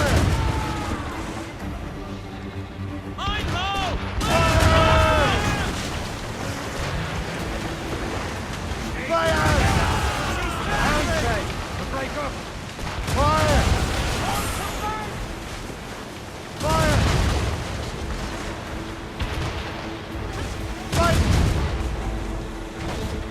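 Naval battle in Assassin's Creed Rogue: ship cannons fire explosive shots in several heavy booming volleys over ocean surf and wind, with shouted crew voices mixed in between the blasts.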